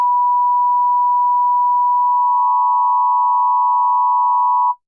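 An FM synthesizer sounds a steady 1000 Hz tone that starts as a pure sine; the timbre turns buzzier about halfway through as operator 2 modulation is turned up and sidebands appear. The tone holds loud and alone, then stops abruptly.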